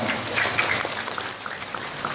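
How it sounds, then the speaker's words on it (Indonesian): An audience applauds at an Indonesian religious gathering, a steady, dense patter of many hands clapping close by for a couple of seconds with no talk over it. "Tepuk tangan dong"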